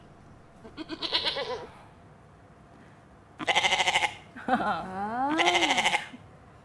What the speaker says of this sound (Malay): ini bunyi kambing